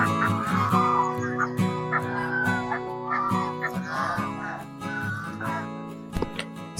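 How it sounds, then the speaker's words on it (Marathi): Ducks call at a pond in the Saguna Baug agro-tourism farm, a series of nasal, harmonic squawks and quacks coming in irregular bursts with small gaps, at moderate distance. "त्यानंतर ही बदकं आहेत बघा"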